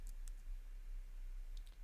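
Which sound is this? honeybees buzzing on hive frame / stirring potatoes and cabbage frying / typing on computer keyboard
typing on computer keyboard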